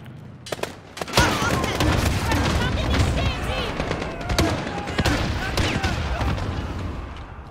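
Bursts of rapid gunfire with sharp shots and explosions in the Modern Warfare story campaign, mixed with a voice speaking over the action.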